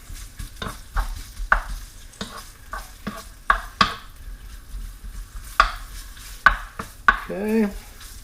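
Bacon sizzles in an oiled pan while a utensil breaks it up, with a soft crackling fry under a series of sharp scraping and tapping strokes against the pan, close and unaccompanied by talk.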